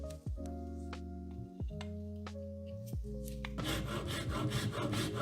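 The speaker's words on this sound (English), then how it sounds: "Yep, filing and sanding." Quiet rasping strokes of a file shaping a wooden tool handle, over a low steady hum, growing into continuous scraping near the end.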